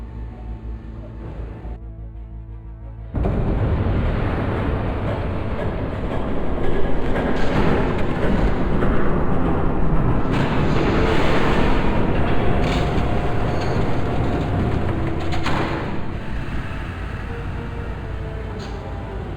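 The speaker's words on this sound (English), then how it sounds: "There's a train coming." A train rumbles past in Batman: The Telltale Series, a faint low hum giving way to a loud, steady roar of rolling wagons that holds for many seconds, close and continuous with no talk.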